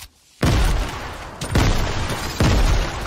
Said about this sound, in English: He blew the building down from under.